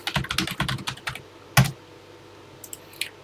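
Keys clatter on a TI-99/4A home computer keyboard in a quick burst of clicks, then a single loud keystroke and a few sparse taps, close and without talk.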